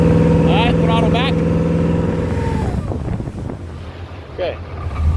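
Supra Sunsport boat engine idling and throttling back from full throttle during engine troubleshooting, a steady low drone that eases down over a few seconds amid wind and water noise, with people talking over it.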